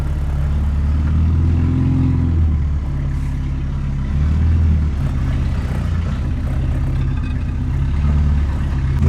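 A barn-find Peugeot 304 engine runs and revs as the car drives off a trailer, a close, steady mid-pitched engine drone with rising and falling throttle surges.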